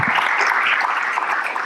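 An audience at a French conference assembly applauds, a dense, steady wash of many hands clapping together, fairly loud and continuous throughout.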